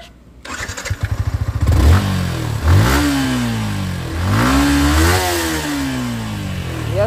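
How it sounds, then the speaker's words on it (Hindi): A Yamaha R15 V4 motorcycle with its stock exhaust cranks with a rapid chugging starter, catches, then revs up sharply several times before settling into a steady idle, close and clear. "R15 का साउंड सुन लो पहले"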